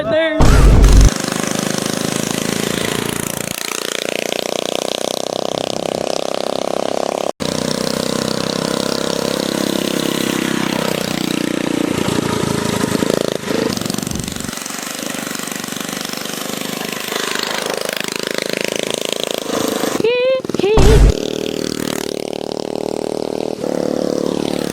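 A Motovox mini bike engine buzzes loud and near, its pitch swelling and dropping as the small bike rides past several times, with brief handling noises in between.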